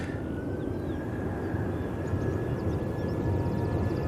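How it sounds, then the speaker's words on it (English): Hainan Airlines Airbus A330 landing on runway 23 right at Manchester Airport, a steady distant jet engine roar with a faint whine running throughout, moderately quiet and without voices. "Hainan A330 now ready to touch down on 23 right"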